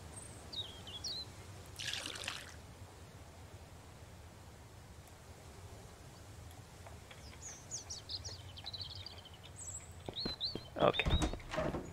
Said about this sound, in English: Let's refill our water.